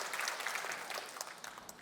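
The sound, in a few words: church congregation applause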